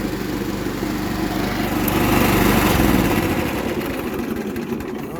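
An old Sears tractor running with its mower deck engaged, a steady close engine drone with a broad whirring roar that swells slightly in the middle and then holds, loud and alone.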